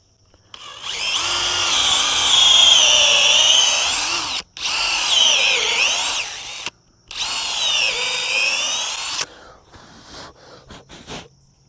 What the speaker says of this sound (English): Then I'll swap out for my 3/8 drill bit.